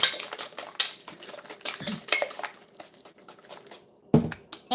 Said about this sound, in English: And then make sure to mix it in properly